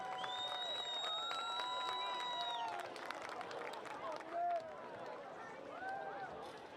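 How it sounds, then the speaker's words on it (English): A crowd applauds and cheers the sophomore royalty at a high school football game. The clapping and crowd noise sit at a distance under a loudspeaker voice and whistle-like tones, and there is babble throughout. "another round of applause for the sophomore royalty"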